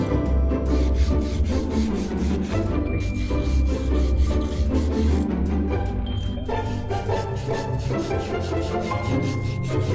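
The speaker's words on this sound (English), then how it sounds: "we're going to just clean down the tools with a wire brush to start with, just to get rid of some of those really big bits of rust" Wire brush scrubbing heavy rust off old hand tools, a steady dense rasping that runs continuously and loudly throughout with no voices.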